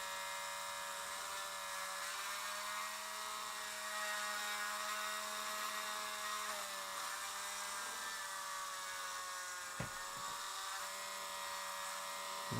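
A Dremel rotary tool grinds steadily at high speed, a continuous close whine that dips briefly in pitch when pressed into the work, with no talk over it.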